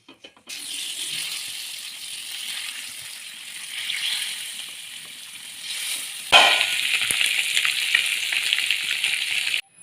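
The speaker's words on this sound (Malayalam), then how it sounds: "മീൻ പൊരിക്ക" Fish frying in a pan in a home kitchen, a steady broadband sizzle that runs throughout and grows louder and brighter partway through, close and continuous with no talking.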